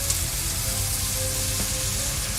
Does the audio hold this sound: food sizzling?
yes